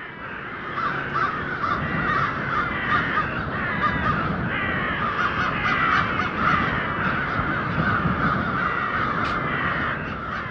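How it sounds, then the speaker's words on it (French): A large flock of migratory birds caws continuously in a garden, a dense, loud chorus of overlapping calls with no pauses and no voices. "Des oiseaux migrateurs ont décidé de faire une halte juste dans le jardin de ce type."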